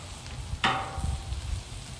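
Tortilla shells crisping on a Camp Chef griddle give a steady low sizzle with one sharp clank partway through, close and moderately loud.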